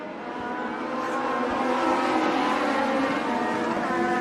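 INX Legends race cars roar together on a county speedway at the start of a feature race, a dense, steady engine drone building slightly in loudness and heard from close by, with no voices.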